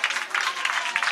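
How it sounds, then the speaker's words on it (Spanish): Visiting supporters at a youth football match between Sevilla FC and Xerez DCF clap after their side scores a late goal, a brief burst of steady, fairly distant applause with faint voices. "Aplaude la afición visitante"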